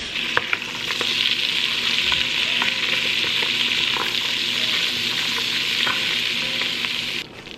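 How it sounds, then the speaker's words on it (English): Butter melting and sizzling in a pan, a steady close frying hiss that holds evenly for several seconds and then stops abruptly near the end. "So we just gonna melt this butter"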